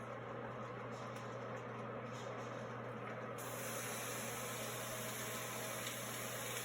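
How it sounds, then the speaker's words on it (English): Ground beef with 20% fat drops into a dry, smoking-hot pan with no oil, and a faint steady hiss of sizzling swells slightly partway through. "This is when we're gonna add our ground beef."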